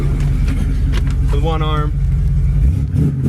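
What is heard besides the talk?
1968 Ford Mustang engine running and revving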